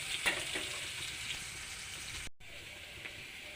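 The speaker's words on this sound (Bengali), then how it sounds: "আলুগুলো একটু লাল লাল করে ভেজে ওর মধ্যে বেগুনটাও দিয়ে দেবো" Potatoes frying in a pan for a home-cooked dish, browning before eggplant is added: a steady close crackling sizzle with a few sharper pops, continuing alone without talk.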